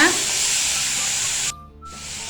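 Tomatoes frying in a pan with a pinch of salt and sugar, giving a steady bright hiss that cuts out briefly near the end before resuming.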